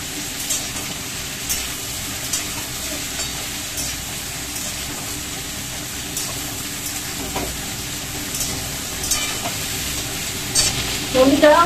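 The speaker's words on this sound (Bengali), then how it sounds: "ভাজা হচ্ছে এই যে লাল ডাঁটাটা, আমার বাগানের লাল ডাঁটা," Red amaranth stems, garden-grown, fry and get stirred in a pan in a home kitchen, with a steady close sizzle and scraping stirs throughout, a few louder clatters near the end.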